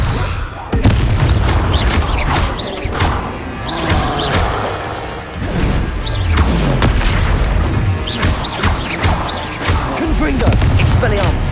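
Blasting spell explosions in the game Hogwarts Legacy: repeated loud booms and crashing bursts at irregular intervals, mixed with other spell effects and a voice talking throughout.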